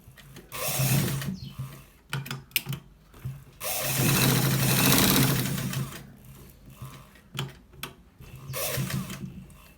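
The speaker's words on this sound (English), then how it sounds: "So we are going to be stitching it right now" A sewing machine stitches a shirt collar in short close bursts, whirring rapidly in several separate runs with one longer stretch between pauses and handling clicks.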